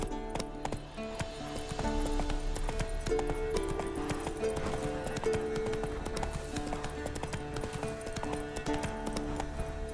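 Hooves of the horse Roach clop in a quick galloping rhythm in The Witcher 3, steady and fairly close, layered over game music with sustained tones, with no voice in the clip.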